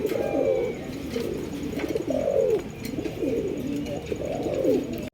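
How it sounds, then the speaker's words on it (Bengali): A male short-face pigeon coos in a steady series of rounded, repeated calls, close and fairly soft, with farm background noise beneath. "নটটা কিন্তু খুবই ডাকা ডাকতেছে"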